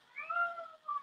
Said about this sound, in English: you guys are going to hear my cat for a minute